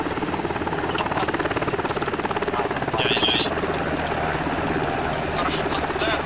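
A military helicopter in the video game ArmA 2 drones loudly and continuously, its rotor chop pulsing steadily up close while players talk over it.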